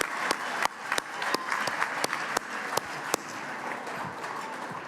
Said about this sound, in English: How about one more round of applause for Sophie Elkins and the BTS choir?